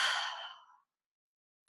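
A single slow, close breath, drawn out and soft, fading over most of a second during a guided relaxation session, followed by silence and a brief faint noise at the end.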